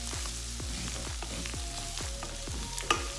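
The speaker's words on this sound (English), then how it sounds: "Just stir that in." Flour being stirred into browned minced beef frying in a pan for cottage pie, a steady sizzle under repeated scraping strokes of a spoon, close and moderately loud with a small clink near the end.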